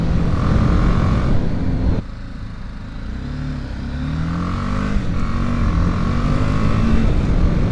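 A BMW 310 GS single-cylinder motorcycle engine revs at about 7,000 RPM on an Oregon road, loud and close, easing briefly then climbing again with rising pitch against wind noise.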